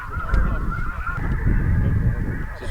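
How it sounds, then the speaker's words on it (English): Greater snow geese of the Atlantic Flyway honk continuously as a flock, a dense overlapping chorus of nasal calls over wind and low rumble, loud and steady throughout. "Atlantic Flyway greater snow goose."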